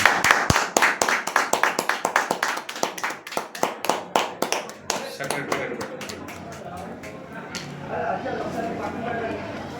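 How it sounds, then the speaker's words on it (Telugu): An audience at a Christmas celebration claps loudly in a fast, steady, rhythmic run of sharp hand claps that gradually thins and softens into a looser patter over background crowd noise. "క్లాప్స్ కొట్టండి సార్."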